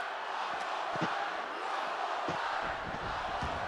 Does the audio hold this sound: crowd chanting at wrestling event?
yes